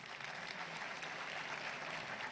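Sustained applause from an audience at an award ceremony for a painting prize in Mestre, a dense steady wash of clapping with no voices on top.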